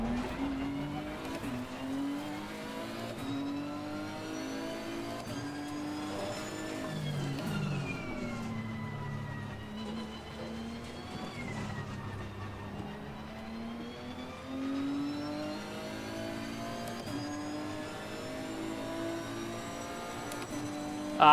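Race car circling the Paul Ricard circuit in a racing video game on worn dry tyres, its engine note rising and falling steadily through gear changes and corners, continuous and fairly loud with no talk over it.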